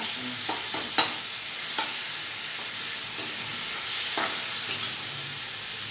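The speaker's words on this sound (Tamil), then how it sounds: "இதை நல்லா வதக்கிக்கிறேன் வதங்கட்டும்" Chopped broad beans sautéing in a hot pan give a steady, close sizzle and hiss, with a few sharp scrapes and clinks as a spoon stirs them.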